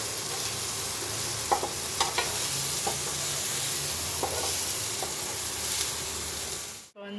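Manathakkali greens sautéed in a pan for a chutney, a steady frying sizzle with a few scattered stirring clicks and scrapes, continuous and moderately close, ending in a sudden cut with no speech.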